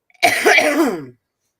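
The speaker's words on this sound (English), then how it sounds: "I keep coughing." One rough, raspy throat-clearing cough lasting about a second, close and loud, followed by silence.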